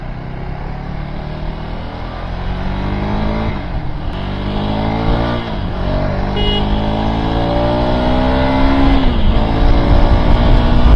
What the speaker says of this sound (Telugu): వెళ్ళిపోతుందబ్బా బండి అయితే. 100 కూడా ఒక 15 సెకండ్స్లో 100 క్రాస్ అవుతుంది.